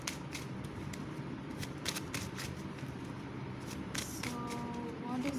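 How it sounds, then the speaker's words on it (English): Tarot cards being shuffled and pulled for a pick-a-card reading, a run of soft papery riffles and flicks, close and steady, with a faint voice and background hum beneath. "let's pull some more intuitive cards"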